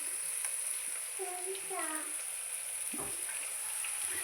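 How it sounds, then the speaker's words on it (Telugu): Bitter gourd pieces fry in a little oil in a hot clay pot, with a steady, close hiss of sizzling throughout. Brief voices, including a child's, sound faintly underneath. "వేయించేయడమేనండి. అటు ఇటును టోస్ట్ చేయాలి, వేడిగా అయిపోవాలి."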